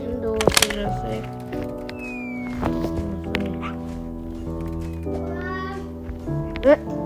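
Several meows rise and fall amid ongoing people's talk, with a sharp high sweep near the end; the calls may come from a person mimicking a cat.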